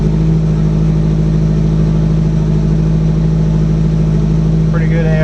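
A Subaru Impreza GC8 engine idles steadily after a cold start, a constant loud rumble with even, unchanging revs, overlaid by a person talking.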